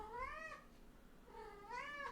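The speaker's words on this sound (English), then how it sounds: "No, my cat is meowing." A pet cat meows twice, a rising-falling call followed by a second after a short pause, close by in a quiet room.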